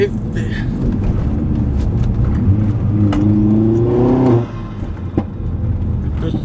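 Vauxhall Astra VXR with a short shifter fitted, its engine revving hard from inside the car, then the revs dropping off with a few sharp exhaust pops and crackles; loud and close, with a voice briefly heard over it.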